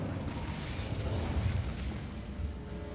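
Incendio fire spell cast in Hogwarts Legacy, a low rumbling burst of flame with a whooshing roar that swells and fades over a few seconds, fairly quiet and with no talk.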